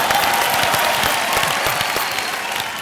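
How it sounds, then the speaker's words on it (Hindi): Studio audience applause on a Hindi television game show, a dense steady wash of many hands clapping close and loud throughout, with faint crowd murmur underneath. "अरे तालियां"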